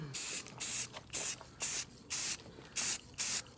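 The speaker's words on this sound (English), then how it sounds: "this is the paint and primer, just a flat black" Aerosol can of flat black paint-and-primer sprayed onto a Jeep Rubicon bumper in eight short, evenly spaced hissing bursts, close and fairly loud, with brief quiet gaps between.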